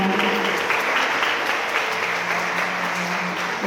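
Wedding guests applauding at a hall ceremony in Gwangju, a thick, continuous wash of clapping from a large gathering, steady and loud from start to finish.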